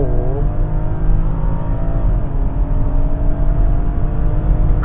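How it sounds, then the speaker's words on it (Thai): A BMW X5 xDrive45e M Sport plug-in hybrid SUV under hard acceleration, heard from inside as a loud, steady engine roar with rising pitch sweeps early on and a shift partway through. "เมื่อกี้เราลองอัตราเร่งแล้วนะฮะ"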